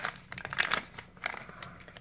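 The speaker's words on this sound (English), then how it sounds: "Grab your scissors. Hold it on the bottom. And open it up and see what you get." Crinkling plastic and cardboard as a Hatchimals toy package is cut and torn open with scissors, a few brief rustling bursts close by, no talking.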